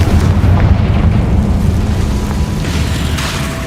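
An explosive spell blast from Hogwarts Legacy roars loud and close as one sustained, rumbling boom that slowly fades over a few seconds.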